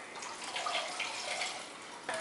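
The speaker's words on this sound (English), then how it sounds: "now we're going to add a cup of hot water" A cup of hot water poured into a dessert mixture, a steady liquid splash and trickle lasting about two seconds at moderate volume, ending with a brief louder splash, no talking.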